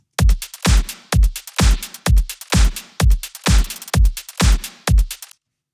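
A homemade synthesized drum beat plays alone: a steady pattern of punchy kicks and snappy hits with crisp hi-hat ticks, about two strikes per second repeating evenly for five seconds before cutting off.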